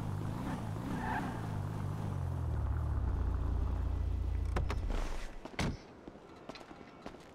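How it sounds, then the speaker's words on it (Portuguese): A car in GTA V rolls into a shop, its engine hum steady and close for about five seconds before fading out, followed by a few short knocks and thuds. "vou entrar com o carro aqui, né?"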